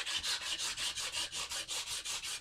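Sandpaper scrubs a wooden gun stock in quick, regular back-and-forth strokes, about five per second, close and steady with no voices.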